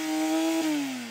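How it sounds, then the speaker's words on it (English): A Porsche 911 GT3 engine revs hard up close in a single high, sustained wail whose pitch sags slightly as the revs begin to drop. "Go on, Jan, rev up your engine."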